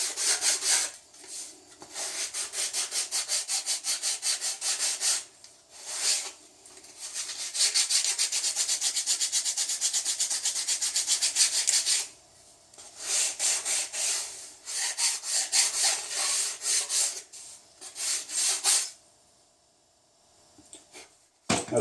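Hand plane shaving a bevel into a wooden boat plank, long rasping strokes repeated in steady runs with brief pauses between them, loud and close, no talk.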